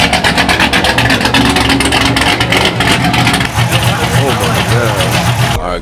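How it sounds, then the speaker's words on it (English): Cammed Corvette V8 at its first start-ups, loud and close, with a lumpy, choppy idle that shakes and rises into revs, while people talk over it. "Oh, the whole motor's shaking. This is crazy. This thing sounds crazy"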